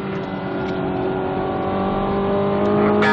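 A stock 2017 Chevrolet Camaro Turbo 2LT with a four-cylinder turbo engine accelerates at full throttle on the Spring Mountain Motorsports Ranch track, its loud steady engine note climbing in pitch over about three seconds.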